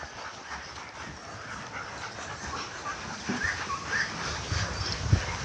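Rescued dogs at a shelter yard whimper and pant softly, with faint high whines over a steady outdoor background and a slightly louder yelp near the end.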